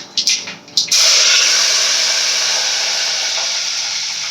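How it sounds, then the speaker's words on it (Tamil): Mustard seeds and curry leaves land in hot oil while a prawn curry is being made, and a loud, steady sizzle breaks out after a few brief clatters and keeps spitting and hissing until the end. "கடுகு போட்டுட்டு கருவேப்பிலை போட்டுக்கலாம்."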